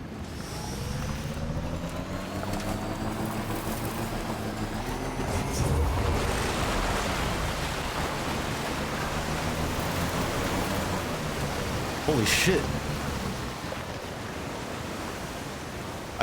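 River flooding in Death Stranding 2 sends a dense, steady roar of rushing water across the whole stretch, with a few heavier surges and a sharp burst near the end, and a brief exclaimed remark over it.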